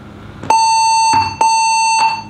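A Megatouch Maxx arcade machine powered up without a hard drive gives two long, loud, steady electronic beeps, each about half a second, separated by a short pause, with no talk.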